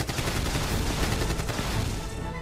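Rapid gunfire from a monster-battle cartoon scene, a dense, loud, continuous volley of shots with booming low end sustained throughout, no voices.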